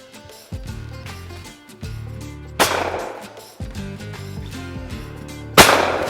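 A shotgun fires twice at clay targets during a shooting challenge at Grimsthorpe, each sharp, loud blast standing out over steady background music.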